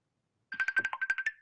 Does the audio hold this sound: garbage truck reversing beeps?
no